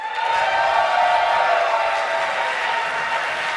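Crowd at a live event cheering and applauding loudly and continuously, a dense wash of claps and shouts holding steady throughout.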